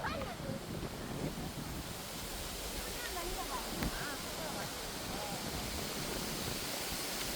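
Strong wind gusts roar and buffet the microphone on a forest hiking trail, a dense, continuous rush that stays loud throughout, with a voice briefly in the mix.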